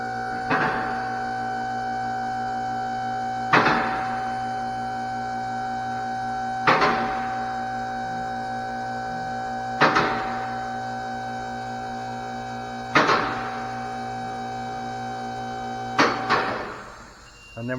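A vehicle alignment lift raises a car, giving a steady mechanical hum with sharp clunks repeating roughly every three seconds, likely from the safety latches catching, and a final burst of noise at the end.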